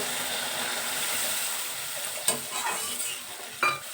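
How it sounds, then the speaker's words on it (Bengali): Hot oil in a frying pan crackles and sizzles steadily with a dish of fried fish and chillies, with a couple of sharper bursts near the end as a little water hits the pan. "এই অবস্থায় আমি এখানে একটু জল দিয়ে দেব"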